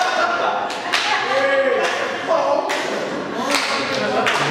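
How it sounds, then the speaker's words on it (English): A wrestling clothesline landing in the ring cracks out as a sharp impact among repeated thuds and slaps, with loud crowd noise and commentary running over it. "Vicious clothesline."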